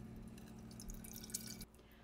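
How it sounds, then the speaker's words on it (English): Filtered water poured into a Mr. Coffee coffee maker gives a soft, steady trickling with a faint drip, cutting off abruptly just before the end. "now we're adding filtered water."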